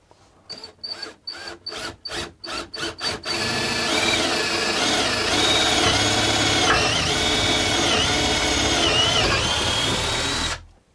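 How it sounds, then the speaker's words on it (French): A drill bores a hole in wood with a wood bit while building a dry toilet, starting with about a dozen short bursts of the motor before settling into one steady, loud whine that runs for most of the clip, close by. "pour percer, nous allons prendre une mèche à bois et attaquer notre trou sur le bord"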